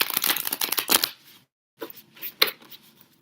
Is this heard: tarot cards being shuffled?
yes